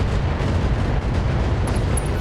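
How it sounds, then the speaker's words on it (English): Mech fire support artillery strike in the BattleTech video game, a continuous heavy rumble of booming explosions rolling together with no gaps, loud and close. "I'm actually using one of my Mech fire support"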